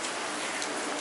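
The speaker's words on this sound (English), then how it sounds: "I'm out of the rain at least." Steady, dense rain hisses evenly throughout, heard from under a railway bridge over the Thames near Windsor, a continuous wash of falling water with no talking.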